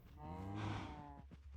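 Cows moo in the Minecraft video game, one long, low, drawn-out moo that swells in the middle and fades, loud and close with no talking over it.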